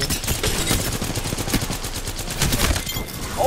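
Rapid bursts of automatic gunfire crackle almost continuously through a video game squad fight, loud and dense with no pauses, with no speech over them.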